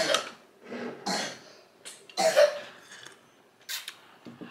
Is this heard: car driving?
no